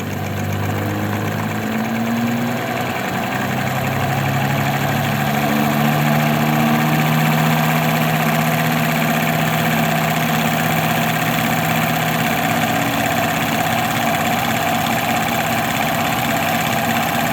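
A 1968 Oldsmobile 4-4-2 W-30 V8 runs steadily at about 1,000 RPM during distributor timing checks, a loud, continuous idle rumble with a rising engine tone early on and no talk over it.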